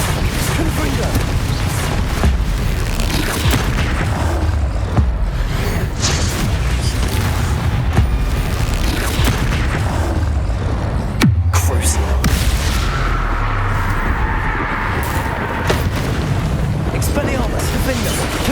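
Confringo spell blasts in Hogwarts Legacy thud and boom repeatedly amid dense combat noise, with a sharp loud burst near the middle and steady rumbling effects throughout.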